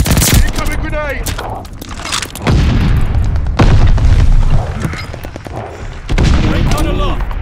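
Call of Duty Vanguard multiplayer combat: loud, close bursts of automatic gunfire and heavy booming grenade blasts come in rapid succession, with shouted in-game voice callouts mixed in.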